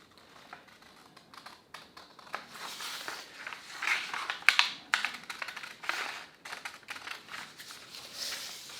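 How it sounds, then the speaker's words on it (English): Scissors cut out a paper part for an Estes Alpha model rocket, a series of soft snips and paper rustles, close and quiet, growing busier midway, with no talk. "go get your handy dandy scissors, and let's go ahead and cut that out"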